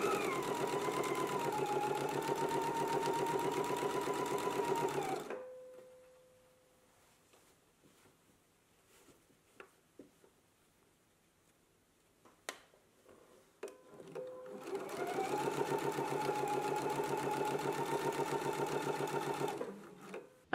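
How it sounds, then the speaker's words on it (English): A sewing machine stitches a row of understitching along a bias tape armhole finish, running loud and steady for about five seconds, going quiet for a stretch with small clicks, then running steadily again. "So now we can go ahead and do our row of understitching."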